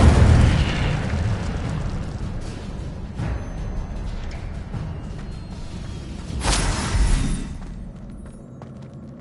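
Incendio fire spell explosions in Hogwarts Legacy, a loud boom opening into a rumbling decay, then further whooshing bursts, the strongest a few seconds later, fading to a quieter tail.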